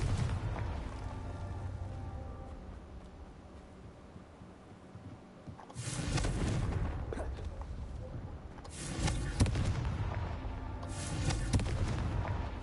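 Confringo blasting spells explode in the video game Hogwarts Legacy: three heavy, rumbling booms roll out in succession over a continuous background of game noise.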